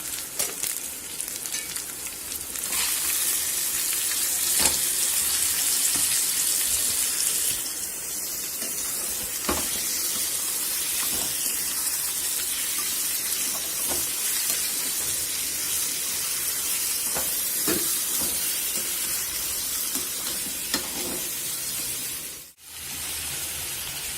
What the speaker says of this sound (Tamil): இந்த ஈரல் எடுத்து அதில் கொட்டி வதக்கிடலாம்